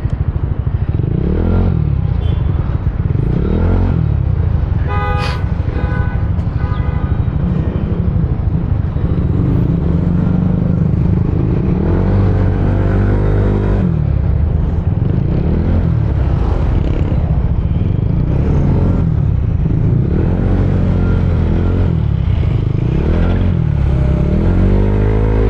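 A custom Yamaha Aerox 155 Superstock scooter drones steadily on a test ride, the engine rising and falling through repeated revs under constant wind rush, loud and close throughout.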